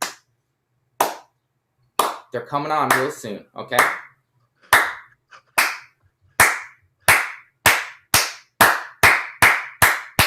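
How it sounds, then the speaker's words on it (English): A studio audience on a comedy podcast breaks into a slow clap, sharp separate claps that start sparse and steadily quicken into an even rhythm, with a speaking voice briefly over the early beats. "slow clap like Christian wants"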